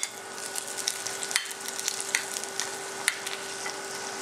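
Confit onions and mushrooms sizzle in a pan while being stirred, a close continuous frying crackle broken by scraping and clinking utensil knocks.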